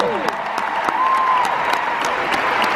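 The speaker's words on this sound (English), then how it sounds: "round of applause for Heather's musical." A large arena audience at a musicals concert applauds the Heathers musical cast, loud sustained clapping and crowd noise, with a voice calling out and tonal sounds above it.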